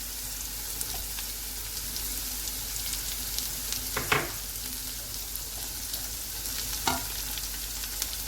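Peas fry in a pan with green chili and ginger, giving a steady close sizzle with a couple of brief sharp clinks of stirring.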